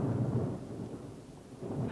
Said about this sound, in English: Then came a flash of lightning, a clap of thunder